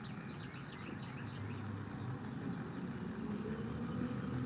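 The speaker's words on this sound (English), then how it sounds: "They are doing trash pickup today, so you guys may hear like a dump truck in the background." Heavy dump truck on a trash pickup run, a steady low rumbling engine drone with faint higher hiss, continuous throughout and moderately loud in the background.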